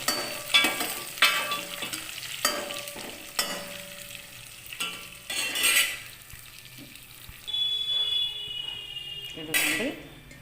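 Cooked rice being mixed by hand with a seasoning tempering and amla green chilli chutney for a gooseberry tamarind-style rice, giving intermittent soft squelching and stirring sounds with light clinks of a vessel, close and moderately quiet.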